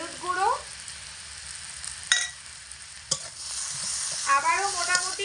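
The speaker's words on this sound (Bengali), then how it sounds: "আবারও মোটামুটি 1 মিনিট নাড়াচাড়া করে নেব টমেটো আর লবণ দিয়ে" Tomato frying with salt and turmeric in a potato dish, stirred with a utensil, giving a soft sizzle with several sharp scraping clicks and clatters of spoon on pan.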